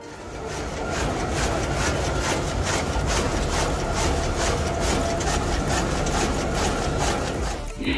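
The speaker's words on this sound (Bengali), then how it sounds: "এখানে মেশিন দেশলাইয়ের কাঠি আকারে কাটিং করে দেয়।" A factory machine saws stacked layers of wood into matchstick-sized sticks, giving a loud, steady grinding and rasping roar that holds unbroken for the whole stretch, with no voices.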